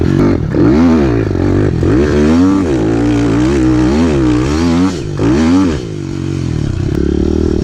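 A pit bike engine revs hard and bogs, its pitch surging up and sagging down in repeated uneven waves, loud and close with rattly mechanical clatter.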